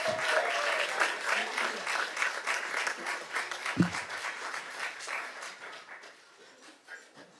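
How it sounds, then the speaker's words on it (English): An audience at a school board meeting applauds the school band, a full round of clapping that thins and fades toward the end, with a voice briefly heard partway through. "Let's give another round of applause to Mr. Guillen and the Stimson Band."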